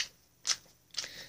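An oracle card deck being shuffled by hand, heard as two short, soft riffling bursts about half a second apart against a quiet room, with no talking.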